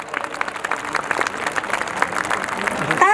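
A school audience at a GD Goenka event in Gurgaon claps for the management, with dense, steady applause of many hands running throughout at fairly close range.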